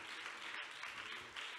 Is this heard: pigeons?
no